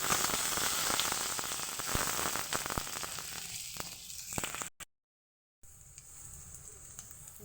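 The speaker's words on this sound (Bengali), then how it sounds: "ওই তেলের মধ্যেই একটা আলু ছোট ছোট করে টুকরো করে" Small chopped potato pieces frying in oil left from frying lentil dumplings, a steady close hiss of sizzling that suddenly cuts out, then returns as a fainter, quieter fry.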